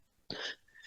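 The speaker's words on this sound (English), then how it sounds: "then I start coughing" A single short burst of coughing, close and fairly loud, with a sharp onset followed by a brief fading rasp.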